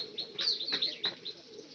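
Pigeons kept in a loft, with a mix of soft cooing and higher chirping calls overlapping for a couple of seconds, fairly faint and close, with a brief rustle of wings.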